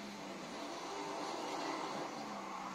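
A car engine in Forza Horizon 5 drones and revs steadily at moderate level for a few seconds, a dense broadband game-audio roar with no talk.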